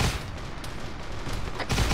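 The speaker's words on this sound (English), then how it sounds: "Is that what was shooting that plasma cannon at us?" Tank-mounted plasma cannon in the ARMA 3 Warhammer 40k mod, a dense burst of heavy fire and booming impacts throughout, with a louder blast near the end.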